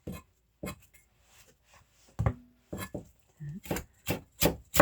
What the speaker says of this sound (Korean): 이 부분은 다시 채를 썰어서